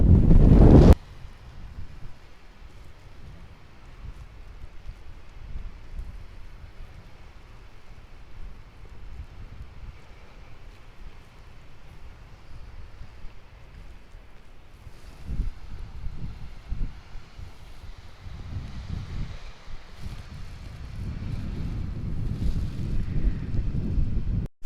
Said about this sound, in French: Je sais pas si vous m'entendez avec le vent